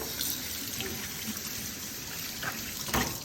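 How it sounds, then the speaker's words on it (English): Running tap water splashes over hands at a sink, a steady close wash with a couple of brief louder surges near the end, no talking. "Wash my hands off."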